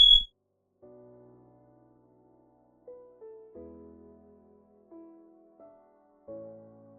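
A home smoke alarm lets out one short, sharp, high-pitched beep at the very start, followed by a series of softer, lower tonal notes sounding one after another.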